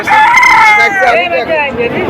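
A rooster at a traditional village poultry market gives one loud, close crow lasting about two seconds, with market bustle faintly beneath.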